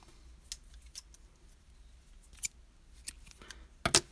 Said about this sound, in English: all we have to do now is cut the yarn